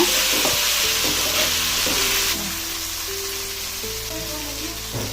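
Masala frying and being stirred in a pan, with a steady loud sizzle and repeated scraping stirs. The sizzle eases slightly partway through, and no one speaks.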